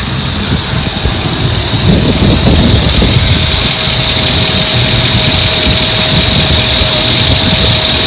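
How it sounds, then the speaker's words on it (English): A running van engine idles steadily and loudly, with a faint repetitive ticking from a failing alternator bearing riding over the constant mechanical hum and a high whine. "Sounds like the bearing is gone, or one of the bearings is kind of clicking away."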